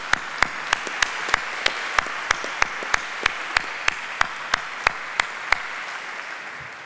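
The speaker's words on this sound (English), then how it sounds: "they deserve a round of applause" Steady, evenly spaced hand claps ring out in a hall at a peace prize ceremony in Sydney, each sharp and distinct, about three per second, as the audience applauds the jury, fairly close and alone without talk.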